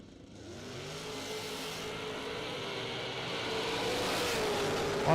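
Drag-strip launch of a blue Camaro and a Corvette Roadster side by side, a loud engine roar rising steadily in pitch and volume as the cars accelerate away, with no talk over it.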